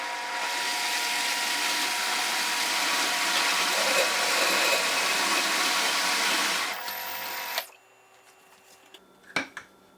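A blender purees cooked pears for maple bourbon pear butter, a loud continuous whirring roar for about seven seconds before cutting off, followed by a few faint clunks.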